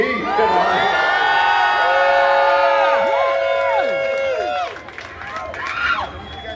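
At a Hollywood Walk of Fame star ceremony for Brandy, a crowd cheers loudly with high-pitched shrieks and whoops layered together, then drops off sharply before a few scattered shouts return.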